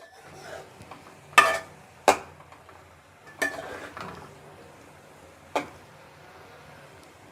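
A spoon stirs carrots and capsicum frying in a pan, giving scattered clinks and scrapes against the metal over a soft, faint sizzle.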